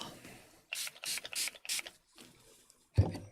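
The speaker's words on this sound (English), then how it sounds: "Let me grab my spray bottle." A spray bottle is handled up close: a run of four or five bright, hissing mechanical bursts, then quieter rattles and a low thump at the end, with no talking.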